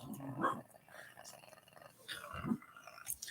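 A person growls low and rough like a dog while at a computer, imitating a dog's growl. The rumbling swells and fades in close, uneven bursts over quiet room noise.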